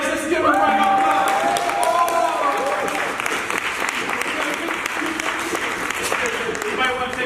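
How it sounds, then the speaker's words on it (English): A crowd at a 2019 microloan conference pitch contest applauds the winners, steady loud clapping filling the whole stretch with some cheers and voices mixed in. "Let's give them a round of applause"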